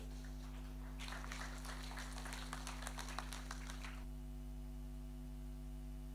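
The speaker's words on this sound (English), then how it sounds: "Let's give a round of applause to Semi." Crowd applause at a Fiji Day celebration in Brisbane, Australia, a dense patter of many hands clapping for about three seconds over a steady electrical hum, then stopping abruptly.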